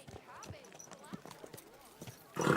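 Horse hooves clip-clop at a slow walk in the medieval video game Kingdom Come Deliverance 2, a steady series of soft, close thuds with game ambience and a louder burst of noise at the end.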